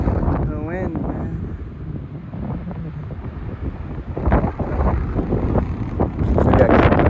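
Strong wind buffeting the microphone on a mountain trail near Chorillo del Salto, El Chaltén, Argentina, a loud rough rumbling roar that swells and gusts harder toward the end, with a voice speaking briefly under it.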